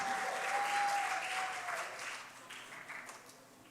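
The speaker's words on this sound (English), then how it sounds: "So let's all give them a round of applause." Applause from a youth church service congregation, a steady clatter of many hands that starts full and gradually thins and fades over a few seconds, with a faint tone ringing through the start.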